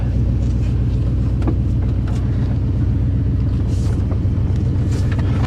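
An old 1988 Chevrolet pickup truck engine idles steadily up close, a low rhythmic rumble with a throbbing pulse and no talking.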